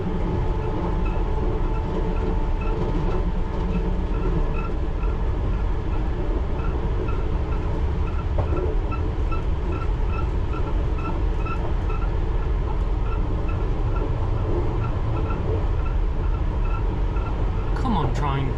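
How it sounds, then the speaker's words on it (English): A London Underground Piccadilly Line train labours uphill at about 32 miles an hour, giving a continuous loud rumble and rattle with faint rhythmic clicking from the wheels, as heard from inside the carriage. "Come on, train. We are going uphill, doing about 32, 33 miles an hour. It does struggle a little bit."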